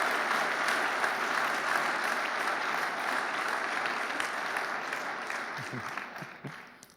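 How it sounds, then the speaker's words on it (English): An audience at a design presentation for the Delft Hyperloop team claps steadily for about seven seconds, a dense wash of applause that gradually thins and fades out. "Give them an applause."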